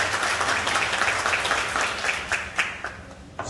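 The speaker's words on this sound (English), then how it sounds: "Rhonda Maddox, please stand up and clap for" An audience claps steadily at a Mende naming ceremony in Sierra Leone, with dense, sustained applause that carries a few sharper individual claps near the end.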